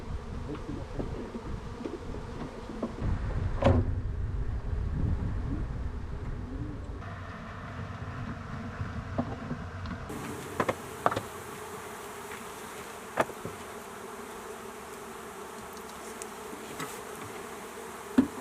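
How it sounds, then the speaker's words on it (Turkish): Honey bees drone around hives on Karacadağ, a dense continuous buzz with individual insects passing close by, while pigeons or doves coo softly in the background. "Mardin, Şanlıurfa, e, Diyarbakır ilimizden yaklaşık 100 bin koloni arı her sene Karacadağımıza giriyor."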